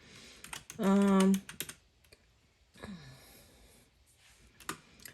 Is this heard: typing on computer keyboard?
yes